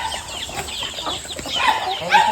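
Farm chickens cluck close by in a short, busy burst of overlapping calls that grows louder near the end.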